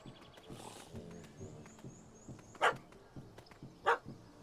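A dog barks in The Witcher 3 video game, two sharp, separate barks standing out over a low background of game ambience and rustling.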